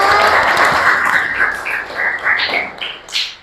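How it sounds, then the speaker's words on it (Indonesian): Brief applause from a small group in a classroom or online teaching session: a loud burst of clapping that thins and tapers off over a few seconds. "Oke, tepuk tangan dulu dong untuk saya."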